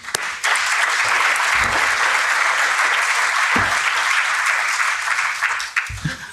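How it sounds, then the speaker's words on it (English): A conference audience applauds panel speakers at an economy and planet event, a dense burst of many hands clapping that starts abruptly, holds steady for several seconds and fades out near the end, with a few low thumps under it. "Really appreciate if you give a round of applause for Petro, for Isabel, Vanessa, and for Vesna."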